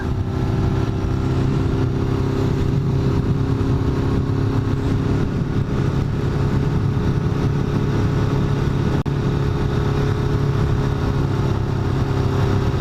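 Engine droning steadily at a constant revving pitch, close and loud, with no talking and one faint click near the end.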